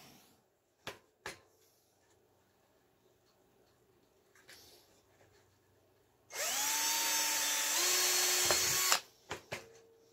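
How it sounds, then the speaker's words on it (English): A power drill bores side holes into a homemade keg and carboy washer, one sustained loud whine for a couple of seconds after a few scattered knocks and handling clicks. "I'm going to drill these straight out."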